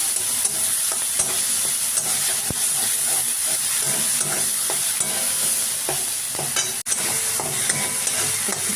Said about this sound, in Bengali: ওই তেলে একটু কালো জিরে ফোড়ন দিলাম আর পেস্টটা, টমেটো, আদা, কাঁচা লঙ্কা, পেঁয়াজের যে পেস্টটা ছিল ওর মধ্যে দিয়ে দিলাম